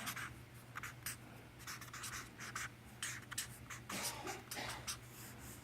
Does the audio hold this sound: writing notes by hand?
yes